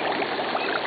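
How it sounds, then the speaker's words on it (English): Steady broadband fizzing of gas bubbling up through Divide Creek at a seep, like a shaken soda, heard close and continuous with no voices. "Because it's really bubbling out here, just like Steve said."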